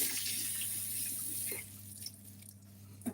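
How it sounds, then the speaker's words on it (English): Tap water runs steadily into a kitchen sink while a pepper is washed for okra soup, a close hissing stream that stops midway, followed by faint drips and handling sounds. "So now I'm going to wash the pepper, prepare it"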